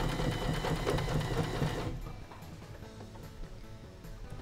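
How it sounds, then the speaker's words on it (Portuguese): A Janome sewing machine running a straight stitch, a fast even mechanical whir for about two seconds, then stopping, leaving quiet small clicks and handling noises. "Damos um pequeno retrocesso no início da costura"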